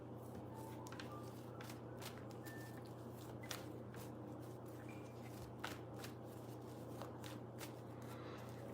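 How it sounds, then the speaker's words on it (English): Tarot cards are shuffled by hand in a quiet room: faint, quick riffling and soft slaps in an irregular rhythm, close but low, over a steady background hum, with no speech. "Let me just shuffle these cards some."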